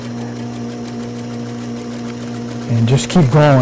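A sewing machine stitches a cuff onto a shirt sleeve with a fast steady hum and a rhythmic needle clatter, close up, and someone speaks briefly near the end.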